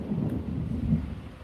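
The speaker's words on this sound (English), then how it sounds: "That was thunder." A low, rolling rumble of thunder on a hot day, heard indoors with several fans and air conditioning running. The deep roar is continuous and moderately loud throughout, with no talking.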